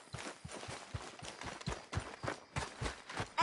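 Steady clip-clop of a horse's hooves in Red Dead Redemption 2, evenly spaced strikes at a walk or trot, moderately close and fairly quiet, with no voices over them.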